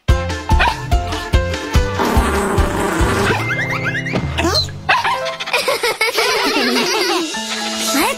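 A cartoon puppy yips and barks in short bursts over bright children's-show music and effects, the barks loud and close amid crashing sounds and busy accompaniment.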